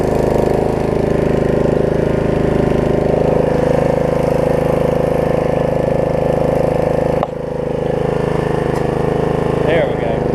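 Snapper RER riding lawn mower engine running steadily and loud up close as it drives off, with a brief drop in level partway through and a voice speaking over the drone.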